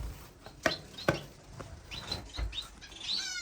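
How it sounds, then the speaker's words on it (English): Society finches chirp in a bird room lined with breeding cages, giving sparse, fairly faint tweets and a few sharper calls scattered over a quiet background, with a brighter chirping burst near the end. "These are our finches."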